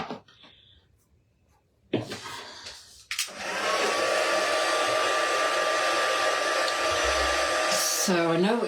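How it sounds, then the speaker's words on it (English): A heat embossing tool blows hot air over a stamped Christmas card with a loud, steady whirring whine that runs for about five seconds. A few handling knocks come before it, and it cuts off abruptly. "And then I'm going to heat emboss this as well."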